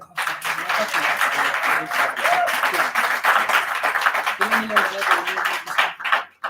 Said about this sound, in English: can you give him one applause, please?